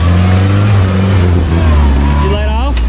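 A Jeep Cherokee engine roars loudly off-road, a steady low drone that climbs in pitch toward the end as it revs, with voices talking over it.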